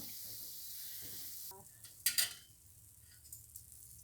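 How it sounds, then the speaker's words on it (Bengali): Bread gulab jamun sweets fry in hot oil with a soft, steady sizzle, followed by a couple of brief metallic clinks and scrapes as they are lifted out, all quite faint. "লাল লাল করে ভাজা হয়ে গেছে, এখন এগুলোকে আমি তুলে ফেলবো।"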